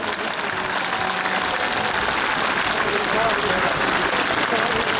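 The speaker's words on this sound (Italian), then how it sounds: "facciamo un grande applauso al comandante della pattuglia acrobatica nazionale" Broad, steady applause from an open-air crowd at the Jesolo Air Show 2019, greeting the commander of the Frecce Tricolori Italian aerobatic team, holding a dense, even wash of clapping throughout.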